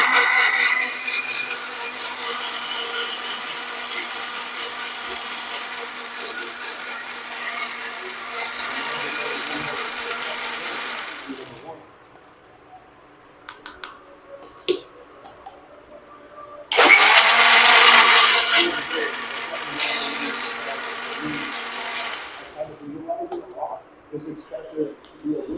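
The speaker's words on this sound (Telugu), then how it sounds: "సో దీన్ని ఫస్ట్ షేక్ చేసుకుంటా, బ్లెండ్ చేసుకొని దీని తర్వాత బౌల్లో వేసుకొని తింటా" A kitchen blender whirs loudly and steadily while blending a breakfast shake, stops for a few seconds amid small clatters, then roars again in a second burst before trailing off.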